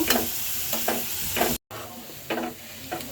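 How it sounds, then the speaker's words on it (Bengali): Onions sizzle in a hot pan while a utensil stirs them in repeated scraping strokes, with a steady hiss underneath and a brief gap of silence midway. "এই পেঁয়াজটা আমি একটু ভেজে নেব।"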